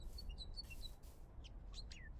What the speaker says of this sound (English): I really like the bird sounds that they've added in ambience to the taiga biomes.